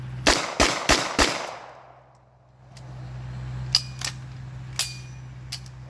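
A pistol fires at a brick: four loud, rapid shots crack close by in quick succession, then after a pause several more spaced, sharper but fainter shots follow.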